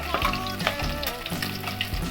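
Food fries in hot oil in a home kitchen, a close, steady sizzle with bubbling crackles running throughout, with no voices heard.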